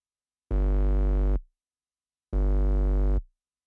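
Analog synth techno bassline with a long half-bar gate: two loud, sustained buzzy bass notes, each held just under a second and separated by a gap of silence, with no talking.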